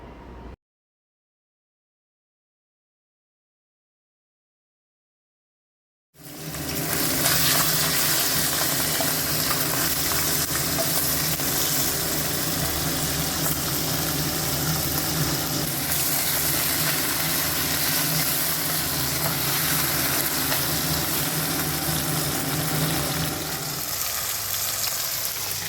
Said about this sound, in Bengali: এবার মাছগুলো একে একে ভেজে নিই।